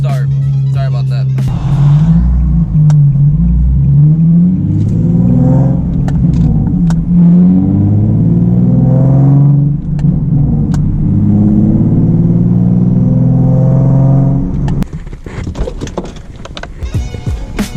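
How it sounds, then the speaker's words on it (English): A Nissan cold start: an engine fires and settles into a loud, rough, steady idle with some revving for about fifteen seconds, then a brief clattering tail, with no talking over it. "that's Brittany's cold start"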